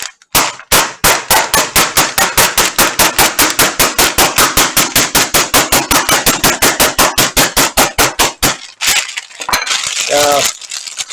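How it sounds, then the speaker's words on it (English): A wooden mallet whacks bread to make breadcrumbs: a long, rapid series of sharp, loud, evenly spaced blows, close by, then a brief muffled pause and a voice speaking near the end. "take your handy dandy wooden mallet, start whacking it"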